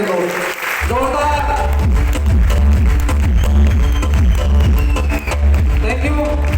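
A large audience claps loudly and steadily after a brief spoken moment, sustained applause filling the hall at a speech event.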